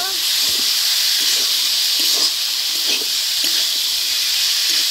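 Peas and potatoes hit a hot pan for aloo matar ghugni, giving a steady, close sizzling hiss with faint stirring scrapes throughout.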